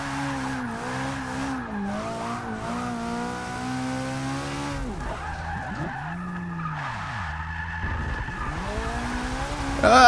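Supercar tires squeal and skid while drifting in Forza 6, long wavering screeches rising and falling over the engine's revving drone, with a sharper burst near the end.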